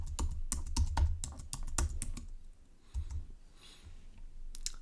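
Fingers type a password on a computer keyboard in quick bursts of crisp, close key clicks, pausing for a moment before a few more taps.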